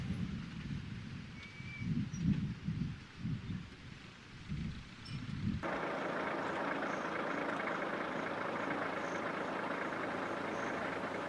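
Safari trucks idle by a river during the wildebeest migration, a low pulsing engine rumble that gives way abruptly to a steady, even hiss.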